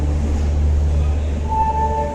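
Rolling rumble of a passing train on the line at night, steady and loud throughout, with a faint tonal whine rising midway over the continuous low roar.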